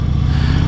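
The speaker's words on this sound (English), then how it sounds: "Wow, motorcycle." A motorcycle passes close by on the road, a brief low engine drone heard over the rider's own ride.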